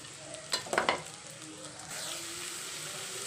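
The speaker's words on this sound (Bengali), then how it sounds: "এবারে আমি সবজি কুচানোগুলো সব দিয়ে দেবো।" Chopped vegetables hit a hot wok over onion for chicken fried rice: a few sharp clattering pours and tosses, then a soft steady sizzle continues alone.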